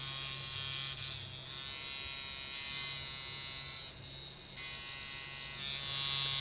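A coil tattoo machine buzzes steadily and loudly while being calibrated, its pitch briefly shifting around the midpoint before the continuous electric drone resumes, with no talking over it.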